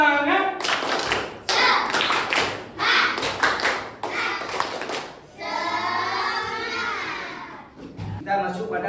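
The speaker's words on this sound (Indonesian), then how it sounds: "Kasih apa dulu untuk tepuk semangat" A class performs a rhythmic 'tepuk semangat' spirit clap, bursts of loud, close, patterned hand clapping in several groups, followed by children's voices chanting together and a final short burst of clapping.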